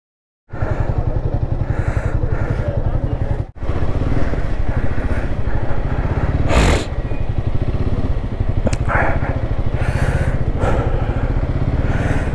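A motorcycle on a Ladakh mountain pass runs with a steady, close engine chug and a brief break partway, then continues with occasional clatter and scraping.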